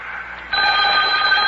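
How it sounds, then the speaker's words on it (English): An old telephone bell rings loudly and steadily, a continuous bright metallic trill that starts abruptly partway in and carries on to the end, with no talking over it. "Oh, telephone's ringing."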